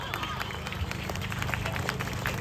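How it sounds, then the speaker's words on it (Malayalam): An audience at a shop inauguration ceremony claps in a dense, steady patter of applause with crowd murmur beneath and a voice talking over it. "അപ്പൊ നല്ലൊരു കയ്യടി കൊടുക്കണ്ടേ?"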